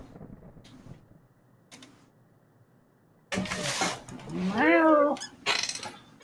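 A cat in the game The Mortuary Assistant lets out a drawn-out, wavering meow after a few faint soft noises, followed by a brief rough burst.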